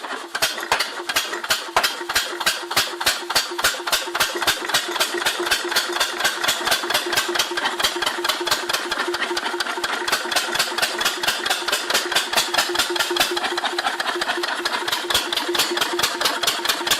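A vintage Mars 5 HP stationary engine in original maroon paint, running for the first time since the early 1970s, fires in a steady, evenly spaced chug of sharp beats that stays loud and close throughout.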